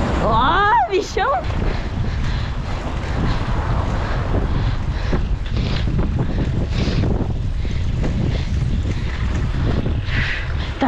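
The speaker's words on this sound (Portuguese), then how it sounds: "Tá um ventanal, né?" Strong, cold wind buffets the microphone of a cyclist out riding, a constant loud roaring rumble that never lets up, with a short whistling squeal near the start and a voice talking under the noise.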